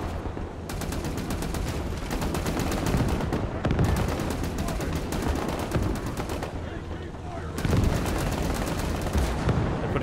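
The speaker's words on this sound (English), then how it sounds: "They're putting a lot of 50 cal fire on it now" Sustained .50 caliber machine gun fire in the World War II game Gates of Hell during a U.S. Army assault on hill fortifications, with rapid bursts from several guns rattling steadily and loudly across the whole stretch, broken by brief pauses.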